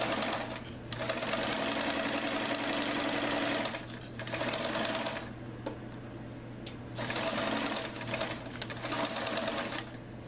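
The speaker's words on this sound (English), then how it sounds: "you're going to sew from here all the way over, about 1/4 inch" A sewing machine stitches a seam on a pair of pants, its steady mechanical whir running in several bursts with brief pauses between, close and moderately quiet.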